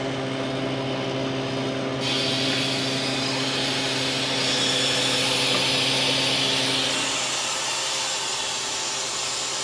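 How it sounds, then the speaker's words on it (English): A freeze dryer releases its vacuum through an open drain valve as a steady, loud broadband hiss with a low mechanical hum beneath, the rush brightening after the first two seconds and holding constant. "we got the drain valve open, letting it release the vacuum so we can get the door open"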